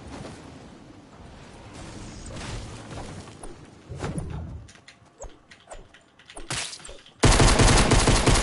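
Rapid bursts of gunfire from a Fortnite Battle Royale match, with rattling automatic volleys and single shots scattered across the span, plus a loud sustained burst of fire near the end; no talking.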